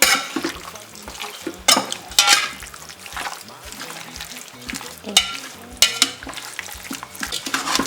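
Lamb biryani mixture with mint, tomato, garlic, ginger and onion being stirred in a pot, with repeated scraping strokes and soft sizzling in a steady, close rhythm; no talking.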